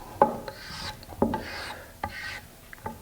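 Chalk marking wooden pie safe pieces, heard as about five short, close scratchy strokes spaced through the quiet, each a brief rasp against the wood.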